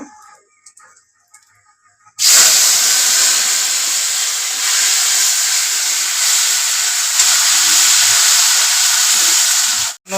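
Bay leaf, cumin and dried chillies dropped into hot oil for a goat meat curry, bursting into a sudden loud, steady sizzling hiss after a quiet start and cutting off near the end.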